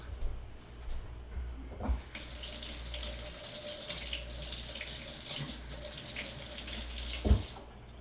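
A kitchen water tap runs steadily over a plum being rinsed, a continuous close splashing hiss broken by a couple of brief knocks at the start and end.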